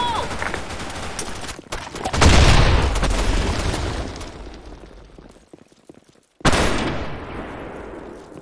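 Grenade blasts boom loudly in the Broken City shooter, with one big explosion followed by a rolling rumble and another sharp blast after a brief silence, amid gunfire and a voice talking.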